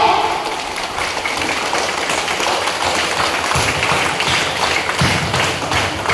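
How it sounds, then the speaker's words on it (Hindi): Audience applause at the opening ceremony of a Janta Jagriti Vikas Kendra office in Ramgarh, a steady dense patter of many hands clapping loudly throughout, with a few heavier thumps. "जब तक सर इधर ना आए तब तक जोरदार ताली।"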